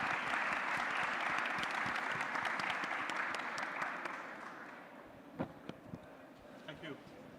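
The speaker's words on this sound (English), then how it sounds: "So I would like a round of applause for this wonderful panel" A conference audience at a cybersecurity forum applauds a panel, a broad steady clapping that fades out after about five seconds, leaving a few scattered claps and light room noise.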